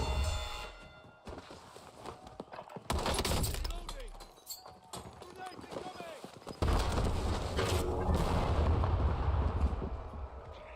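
A grenade blast in the Warzone video game, heavy broadband booms and rumbling bursts amid other gunfire and game noise, with a loud low explosion surge near the end; a player talks over parts of it.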